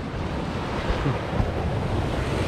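Surf rolls onto Batu Bolong beach in Bali as a steady, broad wash of waves with wind buffeting the microphone throughout, and no talking.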